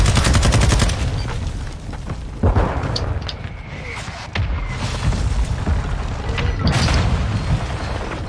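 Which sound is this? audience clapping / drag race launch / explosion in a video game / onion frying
explosion in a video game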